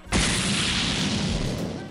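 A motorcycle explodes in an anime with a loud, sudden boom that swells into a sustained roaring blast lasting nearly two seconds.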